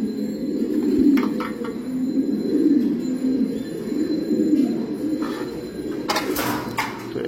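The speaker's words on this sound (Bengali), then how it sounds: "তো এই কবুতরগুলো মূলত আমার সেলের" A loft of fancy pigeons for sale, show kings, Modenas, Danish and racers, keeps up a continuous low cooing, with swelling rounds from several nearby birds and a brief clatter near the end.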